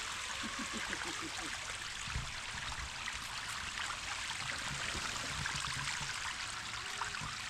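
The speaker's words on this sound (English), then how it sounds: "So just a nice smooth waterfall there." Rushing water pours continuously in a broad, even hiss, like a small waterfall or cascading stream nearby, with no voices.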